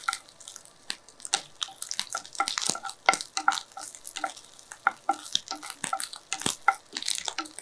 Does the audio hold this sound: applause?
no